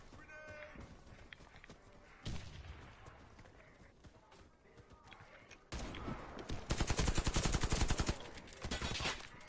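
Rapid automatic weapon fire in the shooter video game Warface, with scattered shots early on, then a loud sustained burst of rattling gunfire near the end.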